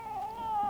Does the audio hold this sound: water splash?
no